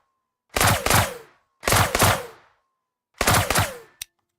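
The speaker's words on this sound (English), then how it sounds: "That should be burst fire." Burst-fire gunshots from a VR shooter game ring out as three separate clusters of rapid cracking reports, each followed by a short ringing tail, with a lone sharp shot closing the sequence, loud and close against silence.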